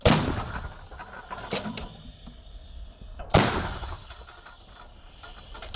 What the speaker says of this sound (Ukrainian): Десяток кілометрів звідси, і вже все гупає і вибухає. Постріл!